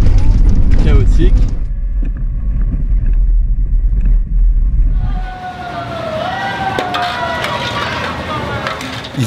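A vehicle jolting along a rough, trackless mountain road: heavy low engine rumble and rattling for the first half, then a thinner mix of creaks, squeaks and mechanical clatter, loud and close.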